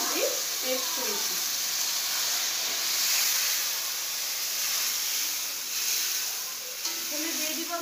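Spice paste of onion, garlic, ginger and chili going into lightly fried onions in a pan, giving a steady, close hissing sizzle that holds evenly throughout with no talking over it.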